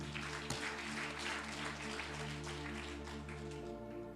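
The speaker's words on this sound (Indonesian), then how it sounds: "Tepuk tangan dulu." A church congregation breaks into sustained applause during a sermon, a steady wash of clapping over low organ or keyboard chords that shift near the end.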